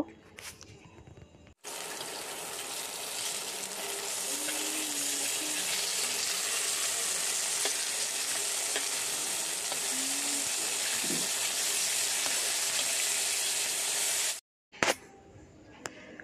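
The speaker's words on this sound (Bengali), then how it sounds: "4 পিস মাছ নিয়েছি, ভালো করে নুন হলুদ লাগিয়ে ভাজতে বসিয়ে দিচ্ছি এই যে" Four rohu fish pieces rubbed with salt and turmeric fry in a pan, a steady, loud broadband sizzle running almost unbroken for over twelve seconds before cutting off abruptly, with quieter room sounds at either end.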